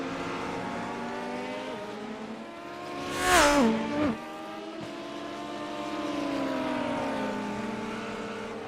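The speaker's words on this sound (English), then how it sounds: "We're hearing the 17 car, Sam Redder" A GT race car at Silverstone drones past on the track, its engine note rising into a loud close pass with a sharp pitch drop around the middle, then settling back into a steady distant roar of other cars.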